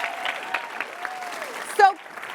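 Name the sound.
audience applause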